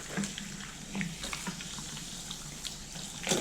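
Cold water runs steadily from a tap at moderate volume while making meat filling for belyashi, with a few soft clinks and splashes breaking through.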